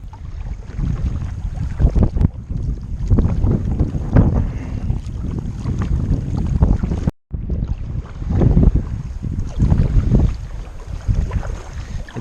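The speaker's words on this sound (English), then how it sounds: "Like, I can just paddle along and then sort of just turn like that." Seaflo adult sit-on kayak moving across open water, with the paddle splashing in broad washes and steady wind buffeting the microphone throughout, loud and close, with a brief dropout midway.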